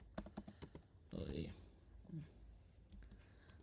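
Quiet clicking of computer keyboard keys being pressed for a Ctrl+A shortcut, a few light taps and one brief rustle, faint and close.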